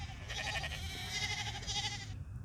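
A flock of sheep in the FGO Salem video game, bleating in overlapping, wavering calls that continue steadily for a couple of seconds, close and loud over a low background rumble, with no talk.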